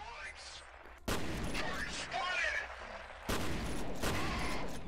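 Gunfire in the first-person shooter F.E.A.R. comes as two heavy sustained bursts of automatic fire, loud and close, separated by a quieter stretch with lighter shots and effects.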